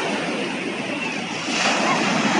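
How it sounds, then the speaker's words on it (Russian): Waves break and wash over a pebble beach in Sukhumi, Abkhazia on a slightly stormy day, a continuous loud rushing surf swelling slightly toward the end, with wind noise on the microphone. "Тут волны бывают и посильнее."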